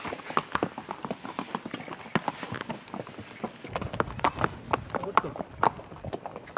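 Rapid horse hooves clip-clopping on a hard surface, a steady brisk rhythm, with faint voices and background noise underneath, in Matheran, India.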